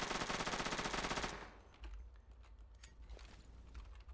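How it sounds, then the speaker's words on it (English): Rapid burst of automatic gunfire for about a second, then quieter scattered clicks and thuds in a game soundscape. "Oh, I hear gunshots."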